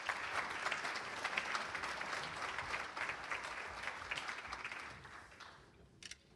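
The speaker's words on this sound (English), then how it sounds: "Give Ken a nice round of applause." An audience applauds a master of ceremonies at a chamber of commerce awards gala and hall of fame induction, sustained clapping that holds steady and then thins out near the end, leaving a few scattered claps.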